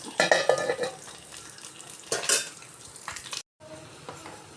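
Curry being stirred in a clay pot on the stove, rasakalan style: a spoon scrapes and sloshes in bursts against the earthenware with a light sizzle underneath, then a short silence before quieter stirring resumes, no voices.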